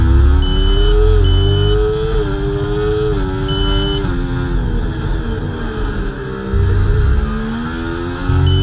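A Formula 1 car's engine screams in the EA Sports F1 24 racing game at the Spanish Grand Prix in Barcelona, heard onboard as a loud whining tone that rises and drops through repeated gear shifts, with short beeps over the top.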